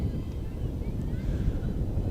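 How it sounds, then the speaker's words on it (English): Steady wind buffets the microphone at an outdoor softball field, a continuous low rumbling roar that fills the whole stretch with no clear breaks. "More and more wind blowing here at Graham Rec Park."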